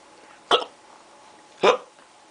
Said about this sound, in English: What about hiccups?